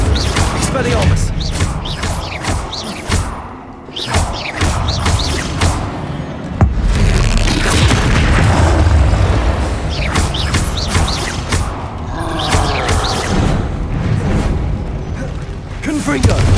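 Spell combat in the video game Hogwarts Legacy, as the Expelliarmus spell is cast amid clattering, mechanical bursts and booms, with voices speaking over the busy, layered effects.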